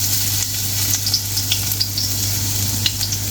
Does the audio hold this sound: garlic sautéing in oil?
yes